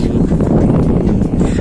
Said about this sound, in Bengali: বাতাস বইতেছে, প্রচন্ড বাতাস বইতেছে